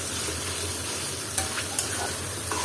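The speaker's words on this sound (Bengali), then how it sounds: "এখন সুটকিটা দিয়ে আমি মশলাটার সাথে ভালো মতো কষিয়ে নিব" Loitta shutki, dried fish, being stirred and fried in spice masala with jackfruit seeds, a dense steady sizzle under scraping spoon strokes against the pan, close and continuous.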